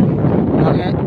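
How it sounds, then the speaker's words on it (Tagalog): Wind buffets a microphone in a low, rumbling gust, brief and fairly loud. "Marami pa ang hangin."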